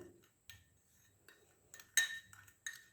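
A spoon stirs lemon juice and gram flour together in a bowl for a skincare paste, making sparse, soft clinks and scrapes, with a few sharper taps against the bowl.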